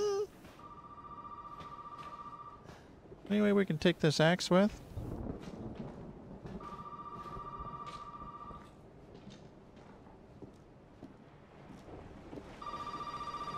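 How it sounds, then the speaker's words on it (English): Telephone ringing in Resident Evil 7, a repeated electronic ring in several bursts separated by pauses, with someone talking and a short loud noise burst between rings. "I'm not answering that phone."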